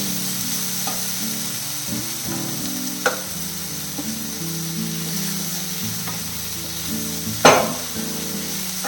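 Tomatoes sautéing in a pan for egg rice, with a steady sizzle and occasional stirring clinks and scrapes, close and continuous with no talk.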